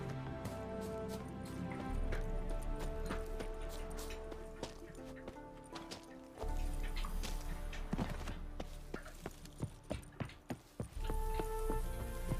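A horse gallops and trots in The Witcher 3 game, with rhythmic hoof clip-clops over music and ambience and a run of sharper impacts near the end.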